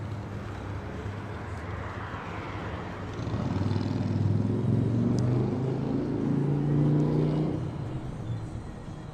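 Steady low engine rumble of a vehicle driving, swelling louder midway through and then easing off, heard alone with no voices.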